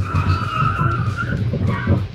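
A Chery Tiggo 8 Pro brakes hard from 70 km/h, its tyres skidding and squealing in one continuous scrub over a low engine rumble, loud and close throughout.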